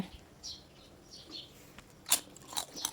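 Crispy fried green banana chips, sliced and fried with the peel on, crunch in short crisp bites under a faint background hiss, with a few sharp crackles bunched near the end.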